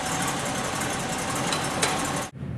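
A car engine caught in limp mode revs in place without moving, a steady moderate hum with a brief rise near the end before cutting off abruptly.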